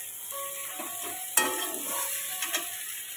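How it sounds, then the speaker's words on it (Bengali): Potatoes fry in a pan with garam masala, bay leaf, onion, ginger and garlic, a soft steady sizzle broken by a sharp stir or scrape and a couple of lighter clinks, with no talking. "আর আলুটাও এর মধ্যে ভাজা করছি"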